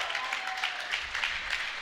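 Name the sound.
crowd applauding at an archery competition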